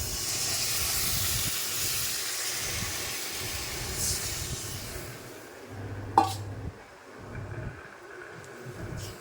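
Water poured onto sizzling fried spices for a fish curry gives a broad steaming hiss that fades after several seconds, followed by a sharp metallic clink and quieter bubbling.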